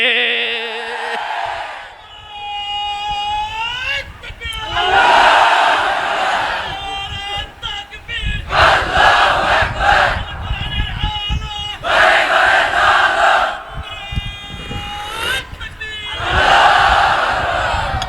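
A large crowd at an Islamic sermon gathering roars the takbir, Allahu Akbar, in repeated loud unison shouts. A lone leading voice calls out between the chants, and the bursts come every couple of seconds.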